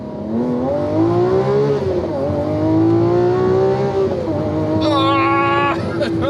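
A Lamborghini Aventador Ultimae, an all-wheel-drive model with rear-wheel steer, accelerating hard with a loud rising engine howl that climbs through the gears, heard from inside the car while people talk and exclaim over it.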